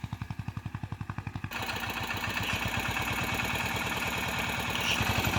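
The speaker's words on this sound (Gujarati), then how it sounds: "એક ટ્રેક્ટર અહીંયા હાલે છે" A farm tractor engine runs in a field, starting with a rapid, even chugging pulse and then swelling into a louder, denser mechanical rumble that keeps its steady beat close by.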